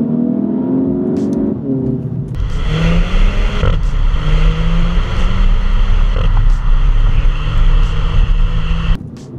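A 2016 Audi TT in dynamic mode with paddle shifters pulls hard in manual, engine droning loud and steady with rising tones and a shift break partway through, heard from inside the cabin.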